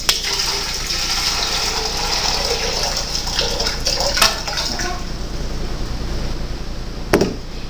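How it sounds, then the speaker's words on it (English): Pre-measured water pours and gushes steadily into a soymilk machine, a continuous splashing rush with a couple of sharp knocks along the way. "you put in the pre-measured water"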